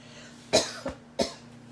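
Two short, dry coughs about half a second apart, close to the microphone, with a softer catch between them in an otherwise quiet room.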